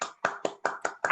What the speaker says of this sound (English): give Ray a really big round of applause for his presentation today